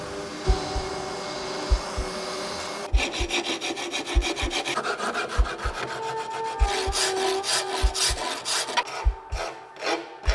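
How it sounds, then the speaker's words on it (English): Rhythmic rasping strokes of a fine rasp across wood while shaping a bow, steady back-and-forth scraping that quickens toward the end, close up with no voices. "going to go back to my fine rasp and keep these sides symmetrical as well"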